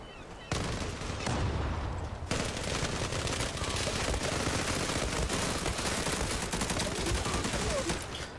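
Rapid, dense gunfire from a shotgun in a multiplayer shooter game, nearly continuous and loud, starting after a half-second lull and briefly changing character around two seconds in before sustained shooting carries on to the end.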